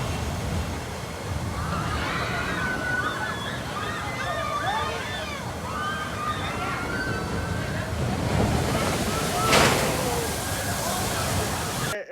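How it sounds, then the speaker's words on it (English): Rushing water and churning surf from the Aquaman Power Wave boat ride at Six Flags Over Texas, a steady loud wash throughout that swells into a bigger splash near the end, with distant crowd noise mixed in. "Head right down the wave again, and it ends with a big splash."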